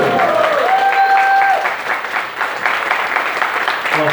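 Sustained, dense audience applause at a charity auction in Vinnytsia, loud and close at first, with a whistle early on and brief voices mixed in as it continues.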